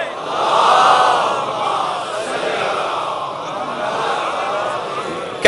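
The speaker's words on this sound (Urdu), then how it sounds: "بلند تر سلوات پڑھیں." A large crowd at a religious gathering chants salawat together in a loud, swelling, rhythmic mass of voices that rises and falls for several seconds.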